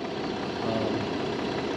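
A TYM T474 tractor engine idles with a steady, even mid-low rumble and hum, moderately loud and unbroken, with no voices over it.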